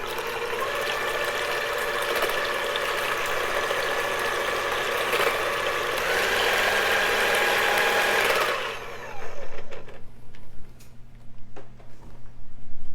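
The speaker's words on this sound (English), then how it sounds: "I'm going to beat our 3 eggs using my electric hand mixer" Electric hand mixer whirring steadily as it beats three eggs in a bowl for a nut loaf, a continuous motor drone that cuts off near the end, leaving quieter kitchen clatter.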